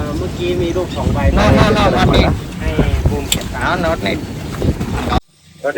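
A tourist boat heading out for parasailing near Pattaya and Coral Island, with loud wind buffeting and engine and water rumble under constant talking, then a sudden drop to near quiet at the end.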